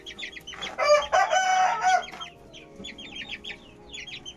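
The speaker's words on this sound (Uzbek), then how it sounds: "100 talik turk jo'jalar bular" Purebred Turkish chickens and chicks give a loud rooster-like crow near the start, followed by repeated softer clucks and peeping calls in a busy coop.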